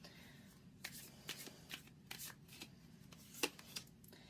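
Tarot cards being shuffled by hand, a run of soft riffling bursts with brief pauses between them, close and quiet, with no talking.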